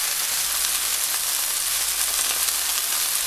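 Beef browning in a pan for Greek stifado gives a loud, steady, close sizzle with continuous crackling and spitting, no pauses and no voices.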